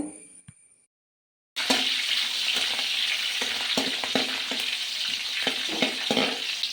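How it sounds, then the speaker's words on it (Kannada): Cut green chillies frying in a pan for chitranna, a loud steady sizzle that starts abruptly after a short silence, broken by scraping stirs. "ಇವಾಗ ಕಟ್ ಮಾಡಿದ್ದ ಹಸಿಮೆಣಸು ಹಾಯ್ಕೊಳ್ತಾ ಇದ್ದೆ. ಇದನ್ನು ಕೂಡ 1 ಮಿನಿಟ್ ಆಗುವಷ್ಟು ಫ್ರೈ ಮಾಡ್ಕೊಳ್ಕೊ."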